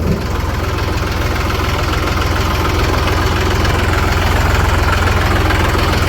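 A tractor engine idles loudly and close by, a steady low chugging rumble with no voices.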